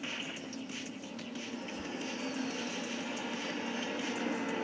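Propeller plane engine in the online multiplayer game GTA V, a steady moderate drone holding through the whole stretch under a low broadband hum, with no talking.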